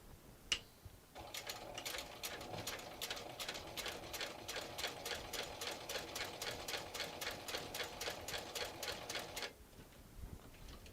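A sewing machine top stitches a vinyl sling bag, running in a steady fast rhythmic chatter for about eight seconds after a brief click, fairly quiet and close, then stopping.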